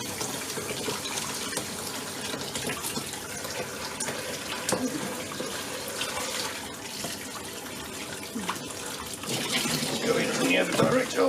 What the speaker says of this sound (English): Just a load of hot water, trying to direct it down over where the actual blockages of stuff are.